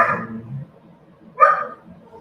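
Two short barks from a dog named Snoop, directed at ducks nearby, a fairly close burst at the start and another after a pause, with faint background between.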